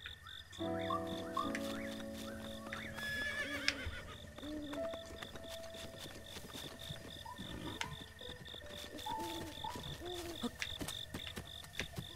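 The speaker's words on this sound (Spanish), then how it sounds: "caballo. caballo." A horse neighs and whinnies with clip-clopping hooves in The Legend of Zelda: Breath of the Wild, layered over a quiet game soundscape with soft tonal chimes and sparse ambient calls.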